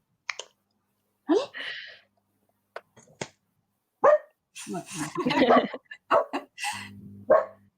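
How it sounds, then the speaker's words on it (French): A dog barks in short, separate bursts spread across the clip, some sharp and close, with a second dog joining in indoors, alongside brief clicking sounds. "Il y a le deuxième qui aura pas tardé à aboyer, du coup."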